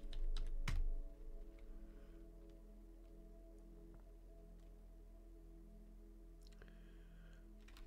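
Someone types a terminal command on a computer keyboard, with a burst of loud clicks and key taps at the start, then sparse faint keystrokes over quiet room noise.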